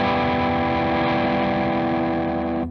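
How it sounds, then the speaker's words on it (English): Electric guitar through a Great Eastern FX Focus Fuzz pedal with the focus control turned up, a thick, sustained, distorted fuzz tone held loud and steady before cutting off. "I'm going to turn the focus up here."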